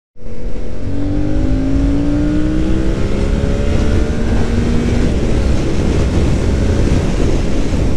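Yamaha MT-07 motorcycle accelerating hard at high speed, its engine note climbing in pitch through the gears under a loud, constant roar of wind rushing past, with no talking.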